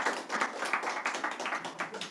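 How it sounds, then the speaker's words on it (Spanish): A church congregation claps together in a quick, steady rhythm, the beats close and moderately loud, with little else heard. "Dele un aplauso al Señor en esta mañana."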